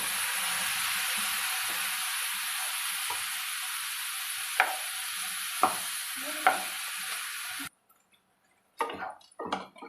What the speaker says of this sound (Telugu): ఇట్లా కలుపుతూ ఫ్రై చేసుకోవాలి.